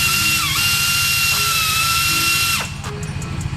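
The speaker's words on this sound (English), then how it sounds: "I love air tools." A pneumatic air tool whirs loudly and steadily while removing oil pan bolts on a BMW 330ci, its pitch dipping under load before it winds down near the end.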